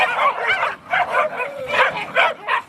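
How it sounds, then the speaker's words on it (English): Dogs in the Masai Mara fighting over a bone, with a close run of sharp yips, whines and short barking bursts coming in quick, uneven pulses. "Watching these dogs fight over a bone"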